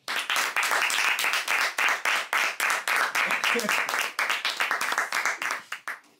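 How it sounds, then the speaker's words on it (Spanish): Hearty applause for the cook at an Argentine asado on the Pampas, a dense, steady round of many hands clapping that runs for about six seconds before tapering off. "Un aplauso para el asador."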